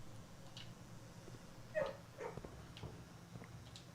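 A puppy in the video game Blue Prince gives a few short yips and soft whimpers, faint and spaced out over a quiet background, ending in a sudden loud thump.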